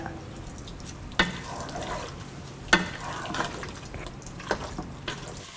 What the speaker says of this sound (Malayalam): 3 മുതൽ 5 മിനിറ്റോളം മീഡിയം ഫ്ലെയിമിൽ വെച്ച് ഇളക്കി സ്റ്റിർ ഫ്രൈ ചെയ്തെടുക്കുക.